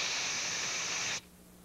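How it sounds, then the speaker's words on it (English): A continuous hiss from a spray can, loud and steady for just over a second before cutting off abruptly, leaving a faint background hum. "Do your stuff, spray can."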